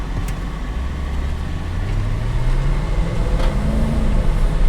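A 2007 BMW X5 with all-wheel drive, heard from inside the cabin while driving: a steady low rumble of engine and road noise that rises gradually in pitch as it accelerates, with no talk.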